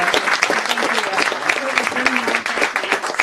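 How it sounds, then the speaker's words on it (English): Audience applause for two authors at a bookstore conversation event, a steady dense wash of many hands clapping close and loud throughout, with a voice briefly audible over it. "Please give them a round of applause"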